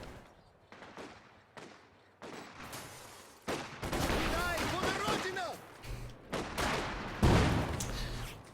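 Vickers machine gun and infantry support gun firing in the Company of Heroes 2 battlefield, bursts of rattling fire and booming shots growing denser and louder midway, with a commentator talking over them.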